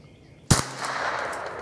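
A single sharp, loud gunshot from a .22LR semi-automatic gun cracks out nearby, followed by a brief ringing decay over steady background noise.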